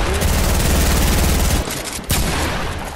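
Rapid automatic gunfire in the Fortnite battle royale game, a loud dense burst of shots close up that breaks briefly before resuming.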